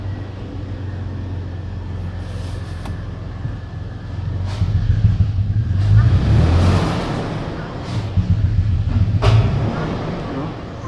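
A car engine cranks during a compression test, a rough, rhythmic churning that swells louder in the second half, with someone talking over it nearby.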